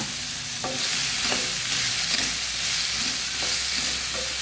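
Okra (ladies finger) tumbled into a hot pan for a Mangalorean-style saaru, frying with a steady broadband sizzle and a few soft stirring scrapes, close and continuous with no talking.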